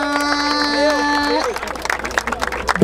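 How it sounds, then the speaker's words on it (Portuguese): After a rap battle at an outdoor freestyle event, a sustained shouted voice gives way to a crowd clapping and cheering, a rough burst of applause and hubbub that swells toward the end. "Palmas pra essa batalha."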